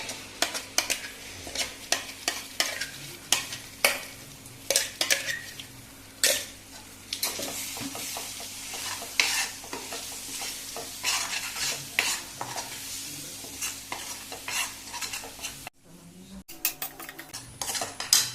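Ground masala paste frying in a pan for chole, stirred with a utensil that scrapes and clinks against the metal in frequent strokes over a constant sizzle, close and clear, with a brief dropout near the end and no talking.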